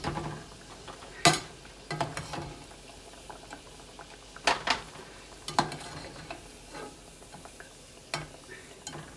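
Cheese spinach ravioli frying in a pan, a soft steady sizzle broken by sharp spits, pops and occasional stirring clatter, close and moderately loud with no talk.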